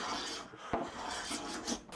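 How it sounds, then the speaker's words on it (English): Rough rasping scrape across a glued-up wooden ottoman tray panel, steady and close, with a sharp knock partway through and another stroke near the end. "A little scraping."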